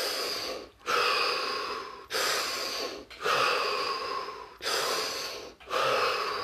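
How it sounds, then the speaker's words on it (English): Deep breathing during a guided relaxation exercise, five long, close, airy breaths in a slow regular rhythm, each separated by a brief pause. "Take 5 deep breaths."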